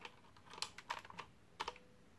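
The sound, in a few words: clicking keys on a found computer keyboard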